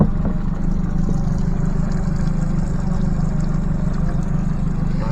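A Yamaha 70HP outboard motor on a MacGregor 26X boat idles in neutral at 750 RPM with a low, steady rumbling drone, close by and unchanging, with a faint watery burble.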